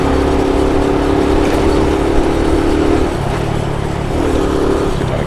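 A 110cc motorcycle pulls away on a city street in New York, its engine droning steadily and close with a slight shift in pitch partway through, under continuous wind and traffic noise.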